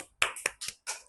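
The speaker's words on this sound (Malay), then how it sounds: "Tepuk tangan." A few sharp hand claps in quick succession in a small classroom, close and crisp, four distinct claps with short gaps between them.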